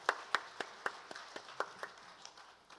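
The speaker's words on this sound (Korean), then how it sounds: "우리 하나님께 영광의 박수 올려드리십시다." Applause from a church congregation during a Sunday worship service: a handful of distinct, fairly quiet claps spaced irregularly and thinning out over a few seconds, with no voices.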